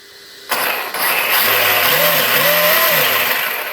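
A Rlaarlo RC rally car's motor spins up under light throttle, jumping to a loud steady whine with a rising and falling tone as the throttle is eased on and off, sustained close up.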